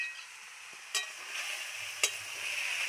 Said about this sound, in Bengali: হলুদ দিয়ে নাড়াচাড়া করে নিই।